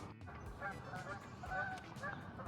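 A bird honks repeatedly outdoors, goose-like calls coming in a few quick, moderately loud bursts over faint background noise.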